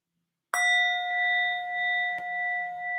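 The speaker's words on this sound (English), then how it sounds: "And then I'll begin the practice with the sound of the bell." After a moment of silence, a single meditation bell is struck and rings out clearly, its pure tone slowly pulsing and fading as it sustains.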